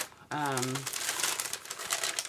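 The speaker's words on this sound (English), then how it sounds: "Sorry about the crinkling." Crinkling of card-making packaging handled close by, a brief voiced sound at the start followed by irregular rustling and crackling bursts.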